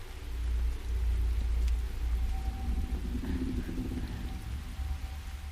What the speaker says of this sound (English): So Claire has been stuck on a motorcycle in the rain, and that really sucks.